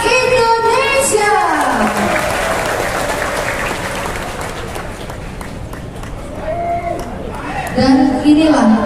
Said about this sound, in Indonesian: Kita berikan tepuk tangan sekali lagi kepada Aliansi Advokat Indonesia.